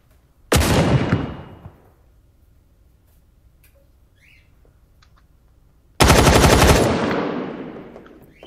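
Two loud bursts of automatic gunfire in the online PvP shooter Badlanders, each a sharp rapid volley that decays over about a second, separated by a quiet stretch with faint background ambience.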